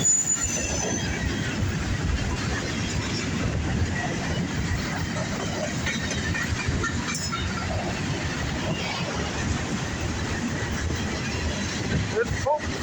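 A southbound Norfolk Southern freight train rolls past with a continuous low rumble and persistent high wheel squeal, steady and moderately close throughout.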